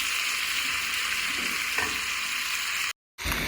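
Chicken pepper fry with coriander powder sizzles loudly in a pan, a dense steady hiss broken by stirring scrapes, then cut by a brief silent gap before the frying resumes.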